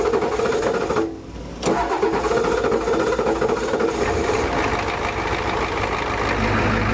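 A 1990 Ford F Super Duty's 7.3 IDI diesel engine cranks briefly and then settles into a loud, close, steady idle with an even diesel clatter, with no one talking over it.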